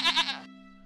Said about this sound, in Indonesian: Oe beli kambing buat makan-makan warga ya